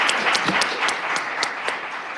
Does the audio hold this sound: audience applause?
yes